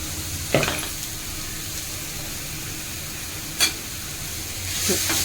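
Steady sizzling of chickpea greens roasting in a pan, with a few sharp clinks of a spoon stirring against the metal.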